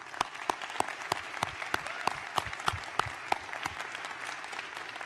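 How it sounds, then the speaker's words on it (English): Graduates at a high school graduation ceremony applaud their families and parents, a sustained round of crowd clapping with several loud, sharp claps close by punctuating the steady wash. "So graduates, could you please join me in giving your families and your parents a round of applause?"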